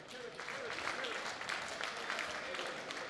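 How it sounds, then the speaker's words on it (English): Applause for the sponsors at the All-Ireland 4-Wall Men's Doubles handball final, a crowd's steady clapping over a voice on the public address. "So look at a big round of applause for O'Neill's"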